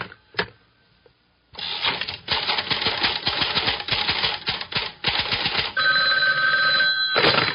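Rapid mechanical clattering and ratcheting bursts are followed by a bright, trilling ring of a telephone bell near the end, loud and close.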